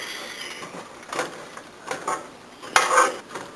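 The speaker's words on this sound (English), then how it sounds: "I'm going to give this a gentle stir with the spatula" A spatula stirs homemade granola on a metal baking pan, making a few short, scraping, rustling bursts at close range.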